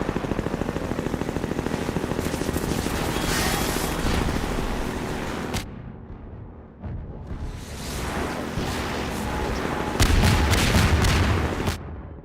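Sustained strafing gunfire from Half-Life 2 metrocops, loud dense bursts filling most of the stretch with a brief lull midway, then heavy firing resumes alongside booming impacts.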